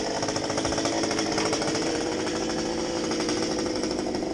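A crane-fed wood chipper grinding tree branches runs loud and close, a dense steady roar with rapid pulsing rattle from the cutting drum, continuous throughout and unbroken by talk.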